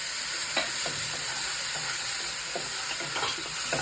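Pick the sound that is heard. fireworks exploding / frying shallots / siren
frying shallots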